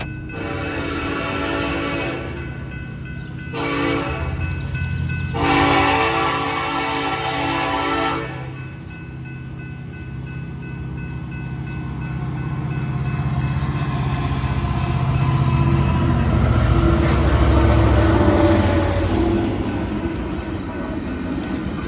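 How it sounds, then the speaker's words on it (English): An eastbound Union Pacific freight train led by an Ace locomotive with a six-engine consist passes close by, its horn sounding in several long blasts over a heavy diesel rumble that swells as the engines roll past. "an eastbound, led by an Ace and a 6-engine Consist"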